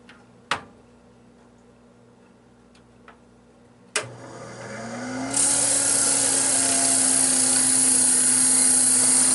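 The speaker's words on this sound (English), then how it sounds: "This is what's known as a rough shaver." A rough shaver cuts down a phonograph cylinder blank, starting with a couple of sharp clicks, then a motor hum that climbs to a steady, loud, bright hiss of shaving that continues to the end.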